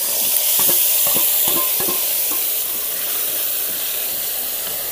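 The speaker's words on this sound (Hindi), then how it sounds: "इसी हम मसाला का बढ़िया सा भूजेंगे" Masala spices fry with a steady loud sizzle and hiss in a pan after mustard seeds have crackled, while a spoon scrapes and stirs in short repeated strokes over the first few seconds; no one speaks.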